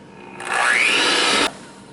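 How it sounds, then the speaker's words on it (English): An electric hand mixer whirs for about one second through a homemade baking mix of flour, salt and baking soda. The close, loud motor whine rises in pitch, then cuts off abruptly. "I'm just going to give this a mix, actually with my mixer."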